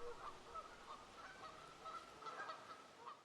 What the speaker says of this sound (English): Some of these geese are year-round residents of Lake Lenexa, and some are migratory birds who are flying south from Canada.